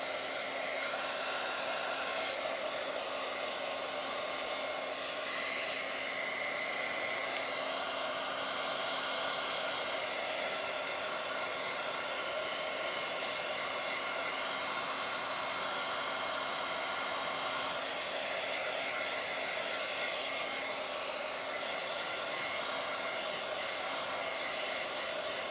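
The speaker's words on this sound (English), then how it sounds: "And these heat tools do get pretty hot, so you have to be careful" A heat tool blows hot air steadily over a Bible journaling page, a continuous close whooshing roar with a faint high whine, running unbroken for the whole stretch with no talk.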